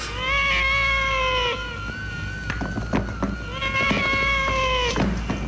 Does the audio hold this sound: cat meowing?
yes